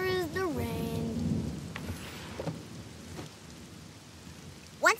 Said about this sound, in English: All I can hear is the rain.